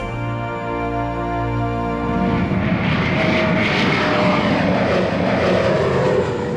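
Gulfstream V executive jet engines roar loud and close, starting with a tonal whine that swells into a broad, steady rushing thrust that carries on to the end.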